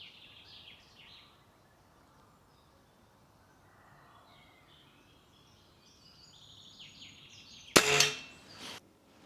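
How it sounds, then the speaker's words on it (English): A single sharp shot from a Stoeger RX20 TAC air rifle being zeroed rings out near the end, following quiet outdoor ambience with distant birdsong, then a short second crack. "So that was me zeroing the rifle and having a play with it."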